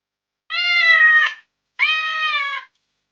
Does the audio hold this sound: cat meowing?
yes